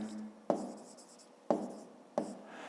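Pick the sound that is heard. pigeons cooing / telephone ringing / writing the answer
writing the answer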